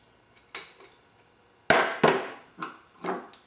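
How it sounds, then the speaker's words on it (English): Sharp metallic clanks and knocks from a breaker bar working loose the head bolts on a Lola T492 race car engine, a few isolated hits with a couple of louder cracks in the middle. "We use the big breaker bar to loosen the head bolts on the motor."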